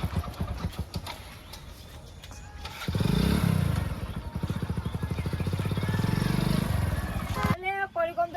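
A motorcycle is wheeled out and its engine runs with a steady throbbing drone for several seconds. People talk nearby before and over it.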